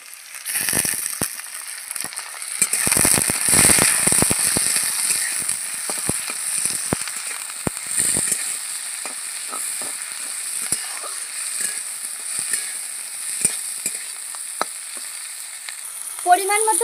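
Raw tomato and green chilli hit a hot pan with ginger-garlic paste, crackling loudly as they go in and then settling into a steady sizzle, broken by repeated sharp scrapes of stirring close by.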